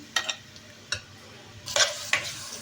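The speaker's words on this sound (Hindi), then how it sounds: "इसमें हम डालते हैं प्याज और इसको हल्का सा गोल्डन ब्राउन करते हैं" Onion frying in hot oil while being browned gives off a soft, low sizzle, broken by a handful of sharp stirring scrapes and clicks of a spoon against the pan, spaced out over a few seconds, with no talking.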